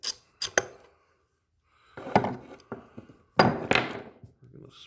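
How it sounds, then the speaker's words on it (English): A 15mm socket removing the spark arrestor from a Stihl leaf blower, heard as a few close metallic clicks and knocks, then ratcheting and rattling tool sounds in short bursts with pauses between them. "we're going to remove the spark arrestor. 15mm socket"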